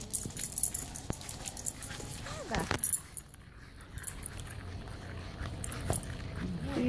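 A dog moves about close by indoors, with tag jingles, snuffling and a faint whimper amid household noise and brief talking.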